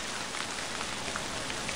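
Heavy rain pours steadily in a video game, a dense, even hiss with no other sounds and no voices.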